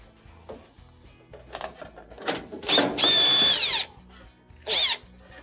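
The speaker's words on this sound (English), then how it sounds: "We have one ground screw on the bottom that will need to be removed." Power drill backing out a ground screw from a GE dryer, several short whirring bursts building to one loud sustained spin around 3 seconds and a final brief burst, close up among small metallic handling noises.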